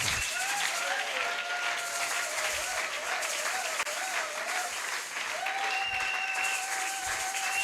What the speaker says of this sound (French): Est-ce qu'on peut acclamer plus fort les noms?